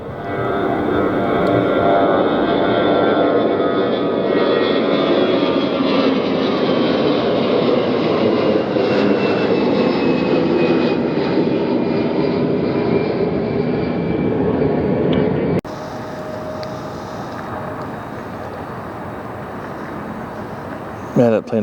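A jet airliner at Detroit Metro airport roars steadily and loudly for about fifteen seconds, a broad sustained engine rumble that cuts off abruptly into quieter ambient noise.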